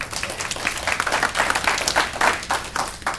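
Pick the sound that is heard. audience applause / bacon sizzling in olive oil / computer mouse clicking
audience applause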